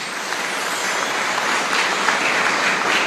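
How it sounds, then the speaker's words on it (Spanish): A chapel congregation at a festival in Paraguay gives loud, sustained applause that fills the room evenly throughout, with no voices on top. "Fuerte aplauso también para cada uno de ellos"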